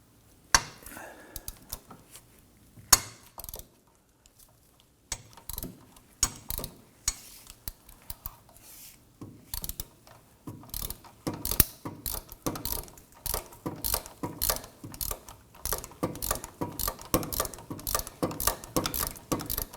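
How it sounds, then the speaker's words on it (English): Ratchet with an extension loosens a bolt on the rear wheel hub of a Volvo XC90, rapid close clicking in irregular bursts that grow busier and steadier toward the end. "I'm going to use my extension with my ratchet on this one here."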